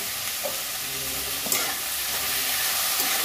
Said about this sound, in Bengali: জিরেটা আমি ভালো করে কষে নেব।